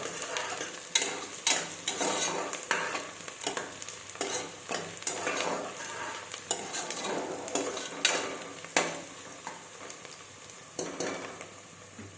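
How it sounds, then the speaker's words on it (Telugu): Whole spices (cloves, cardamom, peppercorns and caraway) sizzle in hot oil in a pan while being stirred, with steady crackling and frequent metallic spoon scrapes, close and fairly loud, no talk. "ఇప్పుడు ఇవి నూనెలో గోలుతాయి కాబట్టి మంచి అరోమా ఉంటుంది."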